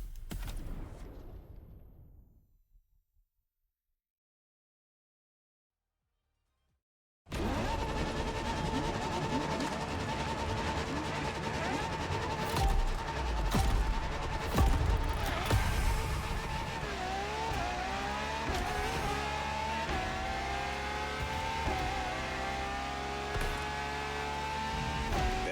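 Ferrari V12 hybrid supercar in The Crew Motorfest racing game, a loud sustained engine roar that kicks in after a few seconds of silence, with climbing and falling revs through gear changes.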